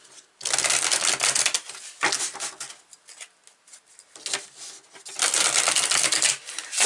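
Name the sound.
tarot cards being pulled from a deck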